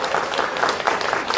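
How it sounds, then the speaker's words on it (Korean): A seated audience at a Korean welfare committee event claps together in a brief, steady burst of many hands, moderately loud with a slightly uneven rhythm. "큰 박수 한번 부탁드립니다"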